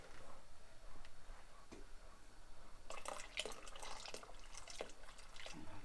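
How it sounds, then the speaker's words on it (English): Water being added to a pot of soup on the stove, heard as a faint, distant trickle and splash with a few light drips in a quiet kitchen. "And then we want to add some water."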